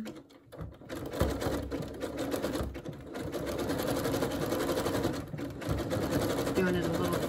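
A sewing machine runs steadily, stitching along a folded, glued-over edge with a fast, even mechanical whir and clatter at close range, while a person talks quietly over it.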